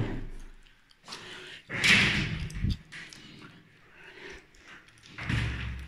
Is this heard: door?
yes